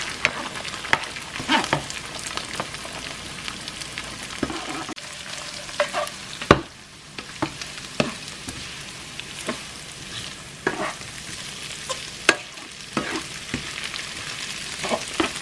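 Pad Thai with plenty of egg being stir-fried in a pan, steady sizzling and frying with repeated scraping and stirring clicks of a utensil, close and fairly loud, no talk.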